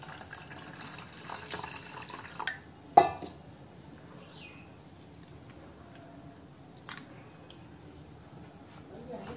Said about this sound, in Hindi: अब इसमें पानी डालेंगे बैटर, क्योंकि हमारा बहुत ही गाढ़ा है अभी।